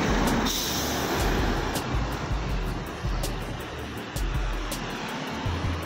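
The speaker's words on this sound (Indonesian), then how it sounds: "truk kuning." A yellow truck passes close on the road with a loud, steady roaring rumble and a broad rush of engine and tyre noise, a few sharp hisses cutting through.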